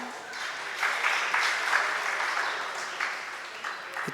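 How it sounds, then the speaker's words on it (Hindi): An audience applauds during a Hindi religious sermon, a sustained round of clapping that swells and fades over several seconds, moderately close and without speech over it. "ताली किसके लिए बजाई आपने?"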